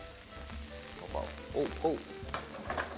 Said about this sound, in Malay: Sebab itulah saya nak kena goreng dia sedikit, bagi dia garing dekat luar